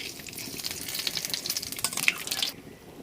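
Bay leaves and whole cumin hit hot oil in a pan, a faint crackling sizzle with small pops that fades out near the end.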